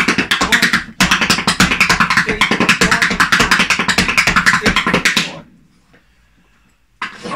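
Rapid, crisp tap shoe strikes on a hard floor form a loud, dense rhythmic break of relaxed-ankle steps lasting about five seconds, with one brief pause, then near silence and a final tap.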